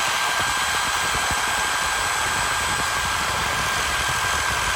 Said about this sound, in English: Out to the vise. With the Sawzall.